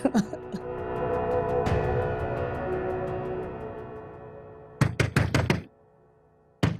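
Loud knocking on a house door in a domestic drama scene: a heavy thump early on, then a quick burst of several sharp raps later, over low background noise.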